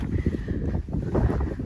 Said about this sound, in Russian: Но сегодня сильный ветер.